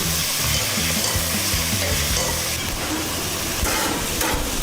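Chopped garlic sizzles and fries steadily in a hot pan for a pumpkin curry, a loud, continuous crackle with stirring scrapes throughout and no talking.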